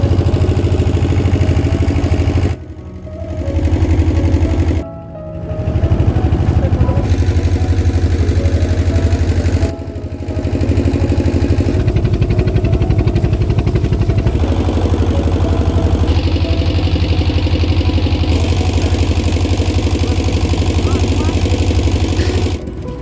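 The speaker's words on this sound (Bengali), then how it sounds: "বোট ছেড়ে দিল আমাদের চার নম্বর ঘাট থেকে কচুবেড়িয়ার উদ্দেশ্যে" Passenger boat engine running steadily on the Muriganga river crossing from Lot 8 ghat toward Kochuberia on the way to Gangasagar, a loud continuous mechanical drone with brief dips, no talk.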